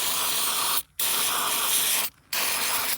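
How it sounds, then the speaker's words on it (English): Two long bursts of aerosol lubricant hiss onto a seized vintage GM bus bay door latch, each roughly a second or more, separated by a short pause, close and steady. "spraying some of the super slick stuff on"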